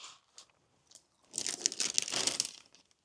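A bite into a flaky prosciutto pastry, a few soft crinkles of paper first, then a close, crisp burst of crunching and crackling that lasts about a second before fading, quiet overall with no talking.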